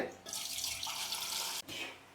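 Water pours steadily into a cooking pot for mutton biryani, a loud, close rushing splash lasting over a second. It stops abruptly and then resumes briefly.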